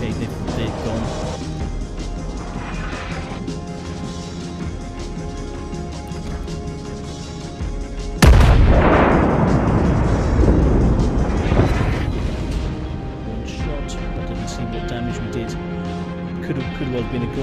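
A battleship in World of Warships, the Konig Albert, fires its guns: a single loud booming crash lands midway and decays over several seconds, set against a constant roar of engine and sea ambience with someone talking throughout.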